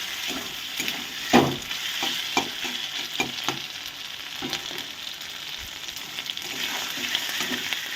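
Food sizzles steadily in a pan over a low gas flame while a utensil scrapes and stirs in irregular strokes, close up with no voices.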